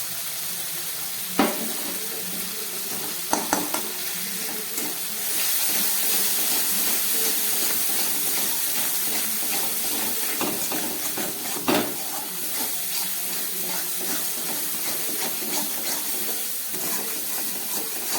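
Spice paste with salt and turmeric for a fish curry frying over low gas heat, a steady soft hiss and sizzle with occasional sharper crackles and faint stirring scrapes, close by.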